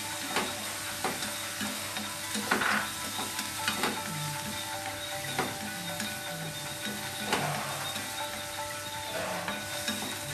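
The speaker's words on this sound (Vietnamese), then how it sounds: "Mình xào một chút cho ốc của mình nó săn lại" Snails stir-frying in a pan with lemongrass and chili, a continuous crackling sizzle broken by periodic scraping and knocking of a spatula against the pan, close and moderately loud, no voices.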